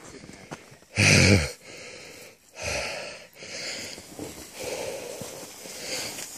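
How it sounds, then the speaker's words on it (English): Heavy, close breathing: a loud puff of exhaled air, followed by several rougher panting breaths at an irregular pace. "You can hear by my panting and puffing."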